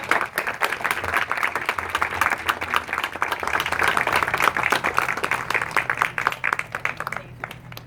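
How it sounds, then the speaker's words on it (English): Wedding guests clap in a steady, lively round of applause, dense and fairly close, with the clapping thinning out in the final second. "I think we should all applaud him right now for a second."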